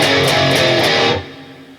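Heavily distorted electric guitar chugging power chords in a hard-rock riff, loud and close, playing steadily for about a second before the final chord rings out and fades.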